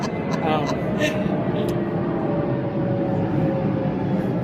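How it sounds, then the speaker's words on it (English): An airplane passing overhead makes a steady, broad rumble under continuous conversation throughout. "Sorry, there's plane."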